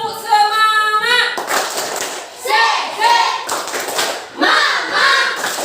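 Schoolchildren in a classroom perform a rhythmic spirit clap, short bursts of clapping and thumping in a patterned sequence, with the children chanting along between and over the beats.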